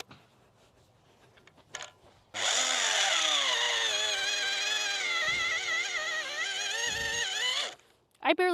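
A power auger with a 7-inch bit digs a planting hole in a garden. Its motor starts abruptly and holds a steady, loud, buzzing whine for about five seconds before cutting off, with a few soft knocks before and after.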